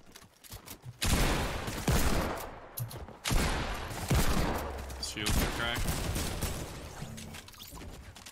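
Desert Eagle pistol fire in a Fortnite Battle Royale match, Season 8 Slide mode: a dense run of loud, close gunshots begins after a quiet first second and keeps going, with other battle noise mixed in.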